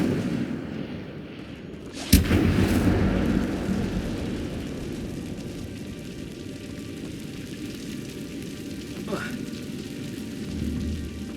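Incendio fire spell cast in Hogwarts Legacy, one sharp crack followed by a rushing, roaring burst that fades into a steady ambient rumble, with a fainter whoosh later on.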